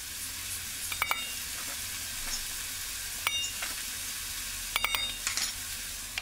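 Steady sizzling of vegetable oil heating in a pot for béchamel sauce, with a few sharp clinks and scrapes of a utensil now and then; no voices.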